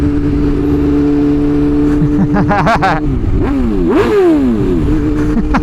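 A salvage BMW S1000RR sport motorcycle is ridden close by, its engine droning loudly and then revving up and down through several rising and falling sweeps.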